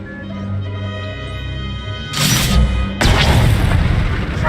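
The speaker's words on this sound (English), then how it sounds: "With one movement, our flux cannons fire, and an Imperial capital ship is disintegrated." Flux cannons fire and disintegrate an Imperial capital ship in Star Wars: The Old Republic on Ilum: two heavy booming blasts strike in quick succession over a low sustained hum, each a broad crashing burst that rumbles on.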